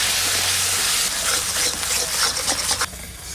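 Water splashed into a hot pan of frying ground spices with dried and green chilli paste and turmeric, a loud steady sizzling hiss that flares up and then settles lower, close by with no talking.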